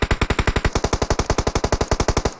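Gunfire in PUBG Mobile bursts out as a rapid, evenly spaced run of about two dozen loud, close shots in one sustained automatic string, with no voices over it.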